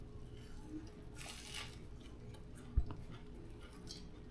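Crunchy fried yellowtail snapper being chewed aboard a boat, a few soft crisp crunches spread across a quiet background with one sharper snap near the end.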